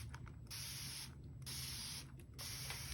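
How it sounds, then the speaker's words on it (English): A spray bottle mists water onto a canvas being prepped for resin sea glass art, giving three long hissing sprays in a row, each cut by a brief pause and the faint click of the trigger, close and alone. "spray some water on the inside, and I'm going to spray the entire surface"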